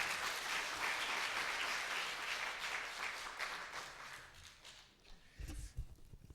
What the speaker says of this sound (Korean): 우리 박수로 맞이하시면 감사하겠습니다